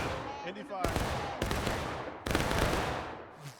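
Cannon artillery volleys in the Civil War game War of Rights, on the River Crossing map: three sharp, loud booms with rolling rumble, spaced roughly a second apart.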